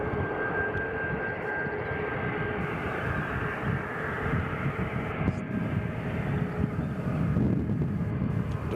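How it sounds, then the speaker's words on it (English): A Delta airliner arriving from LAX at Nashville International Airport, a steady distant jet engine roar holding at an even level throughout and swelling slightly near the end. "Delta coming in from LAX"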